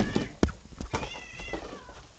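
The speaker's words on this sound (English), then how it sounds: "my cats are fighting" Two male cats fighting indoors, with sharp yowls and strained caterwauling calls rising and falling in quick bursts, fairly close and with no talking.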